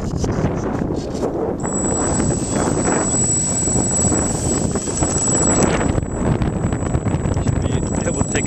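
Strong gusty wind buffets the microphone beside a parked T-28 aircraft, a constant roaring rumble with a thin high-pitched whine running through it and people talking beneath.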